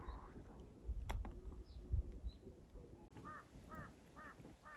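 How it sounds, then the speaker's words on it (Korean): Crows caw in a short repeated series toward the end, faint and somewhat distant over low rumbling background noise. "까마귀가 다 먹을 때까지 기다리는 건지."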